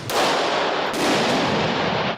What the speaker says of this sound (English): these men are firing rounds with a do-it-yourself firearm, the world's first 3D printed metal gun